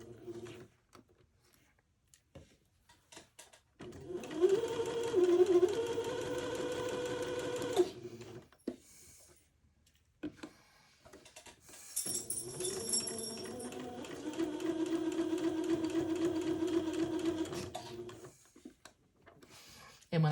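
A sewing machine stitches a fabric casing along a fold in two steady runs of whirring, with a pause between them and soft handling noises around them.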